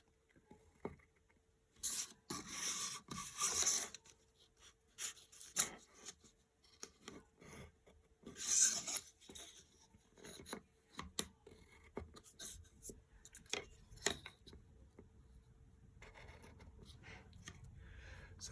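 A pen or pencil scratches and sweeps across paper while a geometry diagram of angles inside a circle is drawn, giving quiet, close, uneven strokes broken by short pauses, with no voices.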